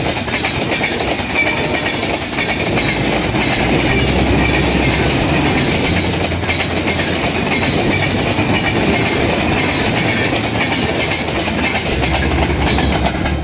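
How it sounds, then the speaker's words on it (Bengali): The fast 705 Up Ekota Express from Dhaka to Panchagarh, hauled by a 6630-series locomotive, enters Azimnagar railway station on line 2. A loud, steady rumble of rolling wagons with clickety-clack wheel beats carries through the whole stretch. "ঢাকা থেকে ছেড়ে আসা পঞ্চগড়গামী 705 আপ একতা এক্সপ্রেস এই মুহূর্তে আজিমনগর রেল স্টেশনের 2 নম্বর লাইন দিয়ে প্রবেশ করছে"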